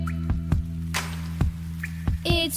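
Several distinct drips plop at an uneven, slow pace, each a short bright tap over a steady low hum, with a brief splashy burst in between.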